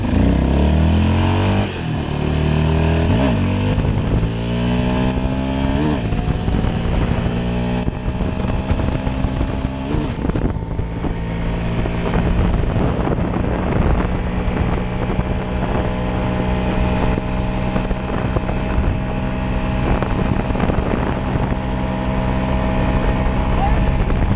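A stock 2022 Ford Raptor pickup accelerates hard through the gears, its engine loud and rising in pitch with each shift, wind noise rushing over it and brief voices in the cab.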